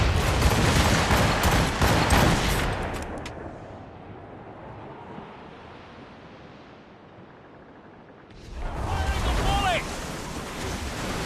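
Ship cannons fire a volley during a naval battle in Assassin's Creed Rogue. Loud, rumbling booming bursts open the passage, then ease into a softer wash of sea and wind before another heavy roar of blasts and crashing water returns.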